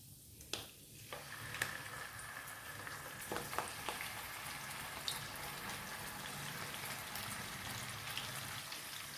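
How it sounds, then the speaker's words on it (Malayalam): Mackerel fries gently over low heat in oil with two sprigs of curry leaves, giving a soft, continuous sizzle and crackle with a few sharper pops early on, fairly quiet and close. "ചെറു തീയിൽ നമുക്കിതൊന്ന് വറുത്തെടുക്കാം."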